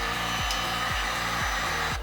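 Heat gun blowing hot air to soften grip tape wrapped on a dirt bike frame, a steady close whooshing fan roar with a faint cyclic pulsing throughout.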